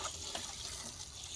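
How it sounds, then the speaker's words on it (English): Water pours into a freshly dug planting hole for a perennial transplant, a soft, steady splashing trickle heard up close and fairly quietly, with no voices. "I'm going to start filling it with water"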